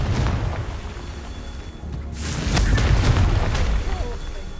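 Confringo fire spell explosions in Hogwarts Legacy burst as loud, rumbling booms over continuous game sound, with a heavier blast after a short lull.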